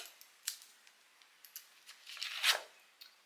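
Scissors snipping through craft material for a Christmas shaker bauble, a few sharp, quiet cuts spaced apart, the last one longest, in an otherwise quiet room.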